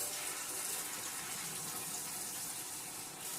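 Water from a kitchen tap pours steadily into a sink, a dense, even hiss and splash that holds at the same loudness the whole time with no voices.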